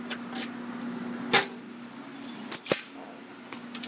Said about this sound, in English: So now if I find my keys, it should be right here.